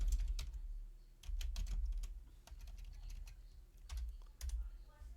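A command is typed on a computer keyboard in a Linux shell during a Hack The Box pentesting lab. There are soft, quick clusters of key clicks over a low, steady hum, faint and close.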